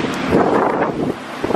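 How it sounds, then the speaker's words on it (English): Strong gusty wind buffets the microphone during a pouring thunderstorm at a roadside gas stop, a loud continuous roar with rising and falling surges. "50 mile an hour gusts of wind around us, which is not great"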